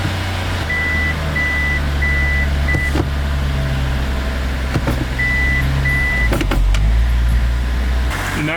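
A Toyota JZX100 Chaser engine idles steadily with low hum, broken by clunks and brief revs as gears are engaged one after another, with a faint intermittent tone above.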